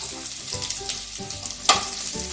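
Cumin seeds, garlic and turmeric sizzle and crackle in hot oil in a pan, a steady, close frying hiss with small pops and occasional stirring clatter.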